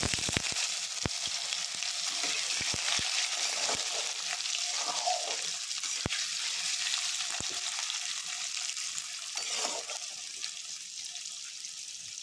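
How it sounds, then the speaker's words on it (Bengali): Potatoes frying lightly in hot oil with panch phoron, a continuous even sizzle held close for the whole stretch, broken by a few sharp ticks and pops. "একটু হালকা করে ভেজে দেবো"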